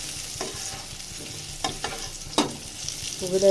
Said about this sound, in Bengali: শাকটা এখন আমি তেলে দিয়ে দিতেছি